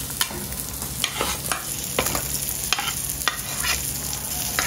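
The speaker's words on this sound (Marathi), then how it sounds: "आणि हा जो आपला घी रोस्टचा मसाला आहे तो छानपैकी ह्याला कव्हर करून घेऊया." Half-fried surmai fish sizzles in ghee roast masala as a spoon stirs it, with a steady fry hiss and a rhythmic series of scraping taps against the pan, close and without any voices.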